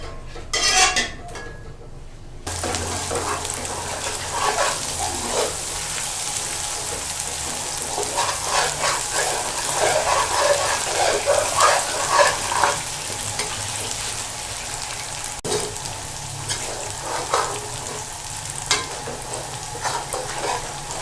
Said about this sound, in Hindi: कुकिंग ऑयल डालेंगे और इसके साथ ही इसमें प्याज डाल देंगे।